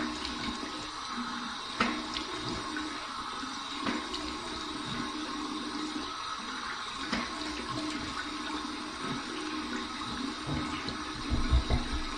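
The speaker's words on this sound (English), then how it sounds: "Here's my warm water rinse." Warm water splashes and runs as a face is rinsed after shaving, a steady watery wash with a few louder splashes near the end, fairly quiet and with no talk.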